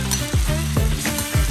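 Beans for Ugandan kikomando go into a hot pan, a steady close sizzle with a few stirring scrapes and clanks at an even pace.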